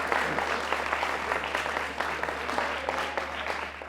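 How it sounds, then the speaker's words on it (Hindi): A studio audience on a Pakistani cricket talk show applauds steadily, a dense, fairly close burst of clapping that carries through the whole stretch with a faint low hum beneath it. "जो अभी भी खुश है, तालियां बजा रही है"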